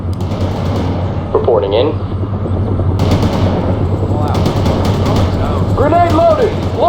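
Sustained bursts of Bradley machine gun fire rattle in the World in Conflict war game, with a rumbling vehicle engine drone underneath and a short radio voice report over the shooting.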